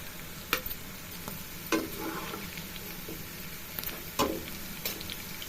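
Okra and peanuts fry in oil with a low steady sizzle, punctuated by a few sharp clinks and scrapes of a spoon against the pan, close by and fairly quiet.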